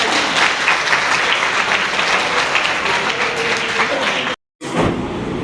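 Loud, sustained applause from an audience honoring the chief guest at a Gurugram educational and cultural society event, steady dense clapping that cuts out abruptly near the end before resuming briefly.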